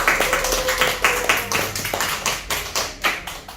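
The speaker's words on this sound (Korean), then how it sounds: "먼저는 우리 상건이 형제를 위해서 우리 박수 한번 하십시다" A small church congregation at a Friday prayer meeting claps for a brother who played accompaniment, producing a loose series of distinct, fairly loud handclaps in an uneven rhythm, with a brief sustained tone faintly underneath.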